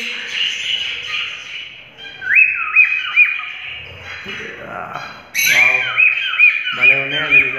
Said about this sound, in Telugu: భలే ఉన్నాయండి నిజంగా బర్డ్స్ మాత్రం